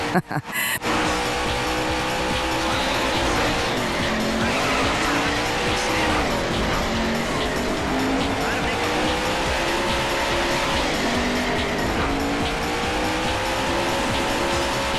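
Race cars battle for position on the track in the arcade game Daytona USA, with a loud, sustained roar of engines, rising and falling revs, and tire squeals under game music, after a brief burst at the start.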